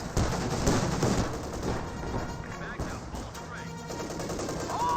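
Machine gun fire in the real-time strategy game Company of Heroes 2, with an MG34 in the battle: dense, continuous rattling bursts mixed with explosions and battlefield noise, steady and fairly loud throughout.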